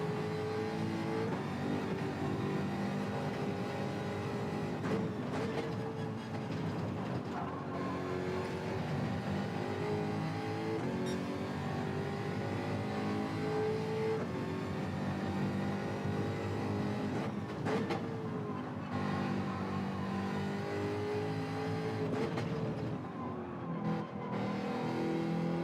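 A Jaguar race car engine in a daily online racing game drones at high revs, holding a steady, close, continuous whine with brief dips and surges as it shifts gears or brakes.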